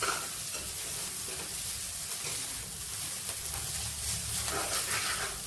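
Ghee-coated finger millet (ragi) vermicelli being stirred in a hot pan, a steady close sizzle with scraping stirring strokes running throughout, no voices.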